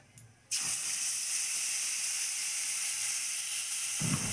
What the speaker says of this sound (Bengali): এইবারে আমি দিয়ে দিলাম পেঁয়াজ বাটা। পেঁয়াজ বাটাটাকে ভালো করে ভেজে নেব।